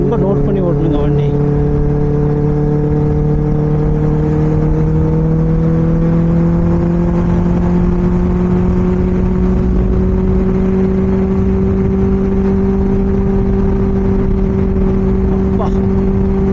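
A Benelli 600i superbike's engine and exhaust revving, a loud steady droning hum that rises slightly in pitch over time, close and dominant throughout.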